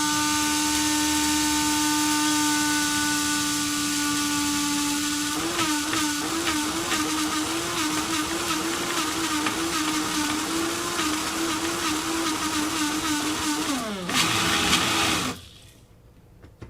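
An electric grinder whirs as it grinds dehydrated garlic scapes into powder, a loud steady motor hum that turns rougher as the chunks rattle, then winds down and stops near the end.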